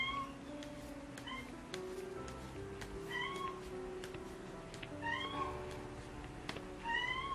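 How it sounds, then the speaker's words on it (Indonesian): A Persian cat named Jova, a cat-show champion, meows repeatedly at close range, several drawn-out calls spaced across the stretch over a low background hum. "Kucing saya namanya Jova tuh kalau bersuara minta bukain pintu kamar"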